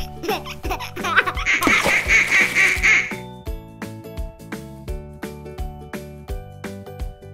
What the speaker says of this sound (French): Le canard en caoutchouc.